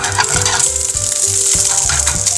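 Eggs frying in hot oil in a pan, a loud continuous crackling sizzle with small pops and occasional low bumps, with no talking over it.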